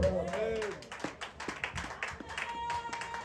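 A church congregation claps along during a French worship service, with quick irregular hand claps over voices and singing at moderate distance.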